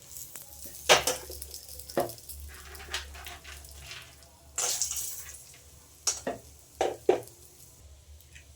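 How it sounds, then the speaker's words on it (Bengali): Bori lentil dumplings fry in oil in a pan after fish has been fried, soft steady sizzling with several louder splattering bursts and stirring scrapes at irregular intervals, close up and without talk. "এবার বড়িটা ভেজে নেব।"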